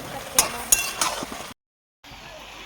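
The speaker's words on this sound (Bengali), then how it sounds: "এবার মশলার সঙ্গে লাউ ভালোভাবে কষিয়ে নেব।" Bottle gourd stir-fried with salt, turmeric and chili powder in a pan gives a few sharp clinks of a spatula against metal over a soft sizzle, then the sound cuts out briefly before faint frying resumes.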